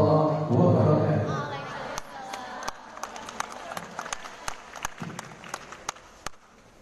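Audience at an Islamic nasyid event in Indonesia giving scattered applause, a few distinct claps rising after a speaking voice at the start, then sparse hand claps continuing near the microphone.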